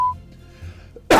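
After a near-silent pause, one abrupt, loud cough from a person bursts out close to the microphone at the very end.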